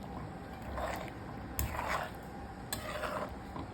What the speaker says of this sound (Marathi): आता आपण पनीर टाकूयात. गॅस मंदच ठेव आणि हलक्या हाताने आपण याला मिक्स करूयात.